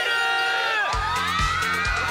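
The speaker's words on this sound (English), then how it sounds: "And they love it. The crowd goes wild." An anime crowd cheering and shouting loudly, rising suddenly into a dense roar of voices with rhythmic low thumps underneath.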